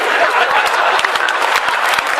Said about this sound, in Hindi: अनु सपन जी आप भी तालियां बजाओ